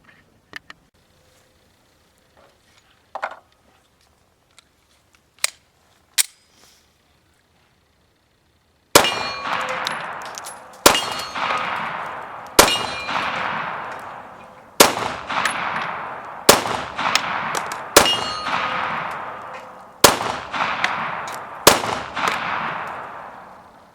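A pistol fires Remington UMC 115 grain jacketed hollow point rounds at a range: after a few faint clicks and handling sounds, seven sharp, loud shots ring out at roughly two-second intervals, each with a short decaying echo.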